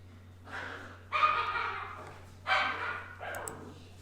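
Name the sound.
dog barking while playing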